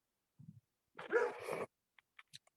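Dogs on a farm bark in one loud, rough burst close by, framed by a few soft yips and whimpers before and after, with no talk over them.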